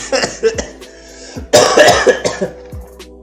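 Several harsh coughs close to the microphone, a few spaced out and then a heavier burst of repeated coughing with throat sounds.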